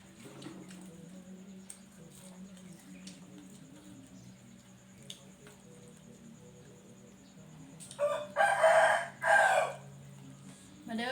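A rooster crows twice, loud and close, near the end, after a stretch of quiet rural background with soft, indistinct sounds.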